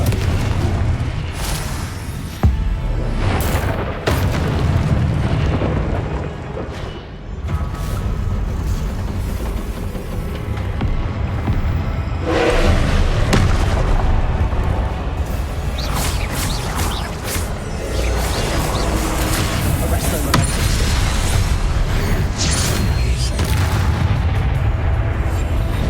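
Repeated Confringo blasting-curse explosions from Hogwarts Legacy, loud booming bursts layered over dense game music and effects that run steadily through the whole stretch, with no one speaking.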